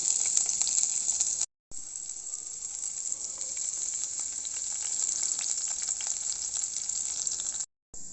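Bitter gourd frying with potato pieces in a pan, giving a steady, close sizzle with light crackle, broken by two short silent gaps, no talking.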